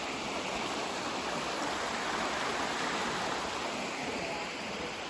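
Water of the Maden Deresi creek rushes in a dense, even flow through a natural valley, steady and close with no voices over it.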